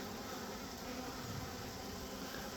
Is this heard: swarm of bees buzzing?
yes